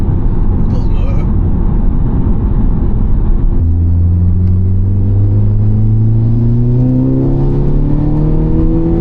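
Audi S3 8P engine running while the car is driven, a steady low rumble that rises in pitch as it accelerates in the second half, with a voice talking over it.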